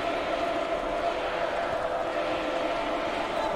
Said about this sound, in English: The crowd continues to chant.